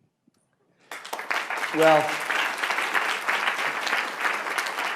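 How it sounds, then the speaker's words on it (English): After a moment of silence, applause bursts out from an audience at a celebration ceremony and carries on as a full, steady roar of clapping, while a voice speaks briefly over it. "I want to turn the applause to Dr. Beckwith, Dr. Kravitz"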